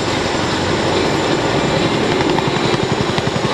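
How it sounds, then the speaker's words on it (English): Attack helicopters fly over an air base open house, a loud, dense rotor roar with rhythmic chopping thumps running steadily throughout, with no talk. "The attack helicopters, having accomplished their objectives of providing air cover, are getting ready to escort the Chinook safely out of the battle zone."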